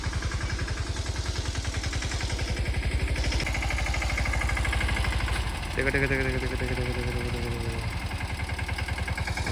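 Tractor engine running while ploughing a field, a loud steady low throb with rapid regular chugging, and a brief higher tone partway through, no speech heard.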